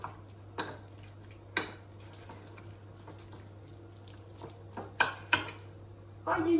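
A utensil scrapes and clinks against a bowl while mixing onion, garlic, salt and pepper for a chicken roll, a few scattered knocks over quiet kitchen hum, then a faint mixing sound at the end.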